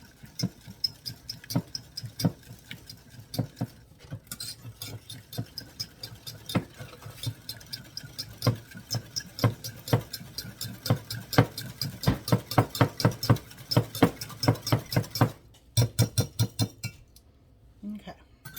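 Batter of buttermilk and egg for a Mississippi mud birthday cake beaten in a bowl, giving a steady run of quick rhythmic clinks and taps that speed up and grow louder before stopping near the end.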